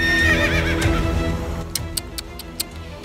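A wild horse neighs loudly and close by, a long wavering whinny that fades, followed by several sharp clip-clop hoof strikes in an uneven rhythm.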